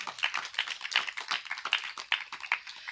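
A group clapping in a prayer hall during a birthday gathering, quick irregular claps in a fairly dense, moderately loud patter lasting a few seconds, no talking.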